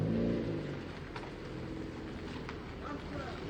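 A car engine revving and accelerating on a trip to Ismayilli, a low rumbling motor close by, loudest at the start then holding steady, with people talking over it.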